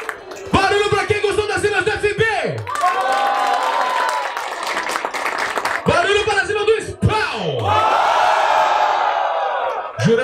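A crowd at a hip hop freestyle battle roars, whoops and claps loudly in repeated surges, with bursts of shouting rising and falling over continuous applause.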